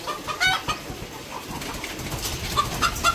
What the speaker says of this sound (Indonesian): Nah, ini ayam petelur.